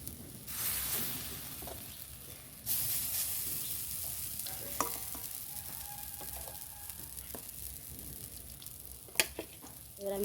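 Gram flour boondi fry in ghee for motichur laddu, a soft, steady sizzle close by with occasional clinks and scrapes of a utensil stirring.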